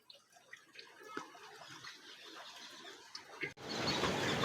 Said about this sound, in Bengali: এই পাহাড়ের গা দিয়ে ছোট্ট ঝর্ণা নেমে আসছে।